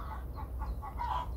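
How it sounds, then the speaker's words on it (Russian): Hens cluck in a soft series of short, repeated calls, somewhat distant and quiet over a steady low outdoor rumble. "Или курочки не кукарекают, а квохчут."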